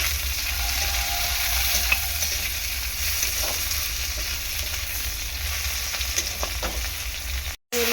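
Tomatoes go into a pan of frying okra and shrimp, raising a steady, continuous sizzle that stays fairly loud throughout with faint crackles and no voices.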